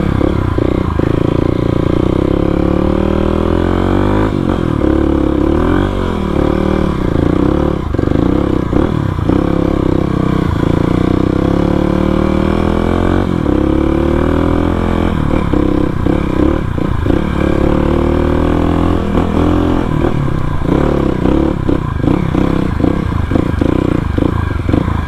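A supermoto motorcycle ridden on a trip toward a beach, its engine droning loud and continuous throughout with shifting revs, rattles and scraping clatter, recorded close on the bike with no voices.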